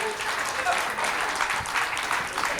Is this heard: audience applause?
yes